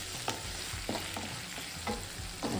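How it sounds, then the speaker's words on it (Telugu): Green chilli paste sizzles in butter and oil, a continuous close frying hiss broken by repeated spoon scrapes at an uneven rhythm, with no talking. "గ్రీన్ చిల్లీ పేస్ట్ వేసేసి బాగా ఫ్రై చేయాలి."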